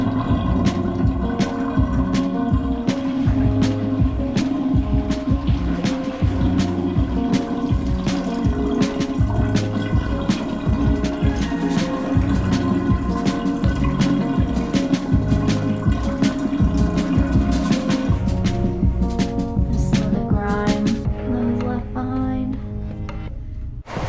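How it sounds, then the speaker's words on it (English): A bathtub drains while a hiking backpack is rinsed, producing loud, steady rushing and gurgling water close by, with a droning tone that carries on until it thins out near the end. "I'm gonna drain the bathtub and then rinse the pack."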